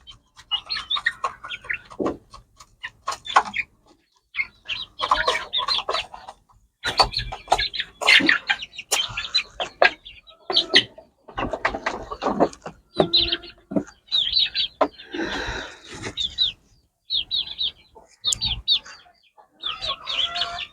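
Chickens cluck in irregular bursts, several birds close by with short, choppy calls overlapping one another while feeding on tomatoes.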